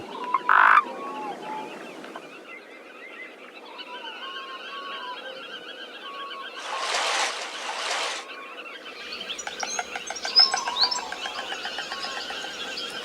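Frogs and toads calling during mating season in the shallow pools of the Biebrza marshes: layered croaks and rhythmic chirring trills, with a louder burst of rattling calls midway, all fairly near.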